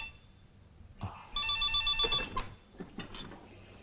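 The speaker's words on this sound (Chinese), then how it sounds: "麻烦你给接个电话" Telephone in an old Chinese feature film, ringing with a bright electronic trill that starts after a brief clatter and repeats for about a second. A short voice and some rustling follow.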